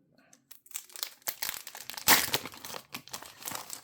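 Foil wrapper of a Gundam card game booster pack crinkling and tearing open, a string of close, crisp rustles and crackles with one louder rip midway, and no talking.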